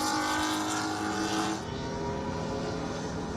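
A PF Racing Ford Mustang GT4 race car at Circuit of the Americas in Texas, its engine roaring loud and steady before a quick drop in pitch and level as it downshifts midway, then running on at a lower drone.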